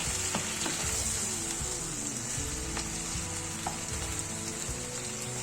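Purslane frying in a pan while being stirred, giving a constant close sizzle with rhythmic scraping and stirring strokes and occasional small pops, with no voice present.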